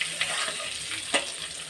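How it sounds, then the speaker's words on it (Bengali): Potatoes frying in hot oil, a continuous close sizzle with a couple of brief stirring clatters, no talk. "এই দেখো তেলের মধ্যে আলুগুলো দিয়ে দিলাম এখন আলুগুলো একটু একটুখানি ভেজে নিই"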